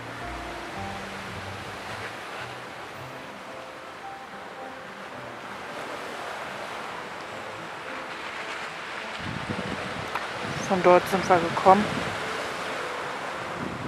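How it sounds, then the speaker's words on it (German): Sea waves roll behind a seaside promenade as a steady wash of surf mixed with wind noise on the microphone, while people talk in German, their voices growing louder toward the end. "Und hier hinter uns liegt das Meer."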